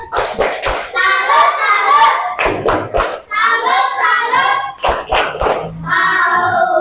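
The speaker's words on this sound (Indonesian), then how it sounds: "Boleh, kasih tepuk salut." Schoolchildren in an Indonesian classroom perform a "tepuk salut" clapping routine, sharp rhythmic bursts of claps alternating with loud chanted voices, repeated in several short rounds close by.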